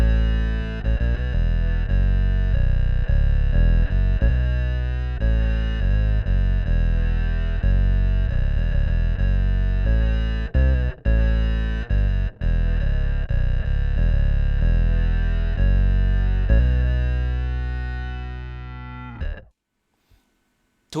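Bass guitar played through a synth effects pedal on synth type 5 gives loud, buzzy, heavily processed tones with a fat, distorted edge. The notes shift in a steady line, then stop with a few clicks at the end.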